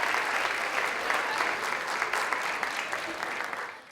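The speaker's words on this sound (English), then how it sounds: "Let's give a round of applause to our top 50 finalists." Steady round of applause from an audience at a neighborhood poster contest awards ceremony honoring the top 50 finalists, dense clapping filling the whole stretch and fading slightly toward the end, with no talk over it.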